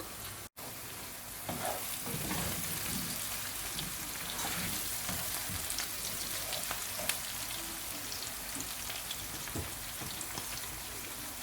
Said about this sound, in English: Then we're gonna check on our garden eggs and aubergine. As you can see, it's cooking, which is good.